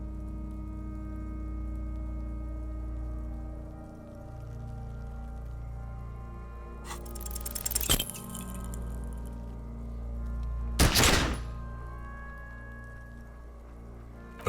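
Pistol gunshot in the video game Disco Elysium: two sharp, loud bursts stand out over a low ambient hum, the first preceded by a brief crackle, the second a few seconds later.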